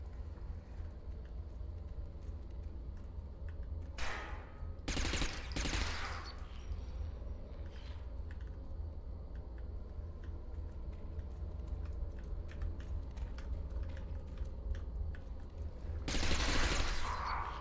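Gunfire in the shooter game Interstellar Marines, with bursts of loud shots around 4–7 seconds and again near 16 seconds over steady background game noise and scattered ticking.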